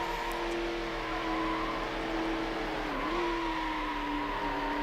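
Lamborghini Murciélago racing in Need for Speed: Hot Pursuit 2 on PS2, its engine a steady high whine holding pitch at speed with a brief dip and recovery midway, loud and continuous with no talk.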